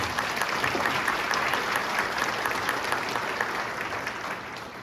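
Warm, steady clapping from a sizable church congregation fills the whole moment, even and unbroken, fading slightly at the end.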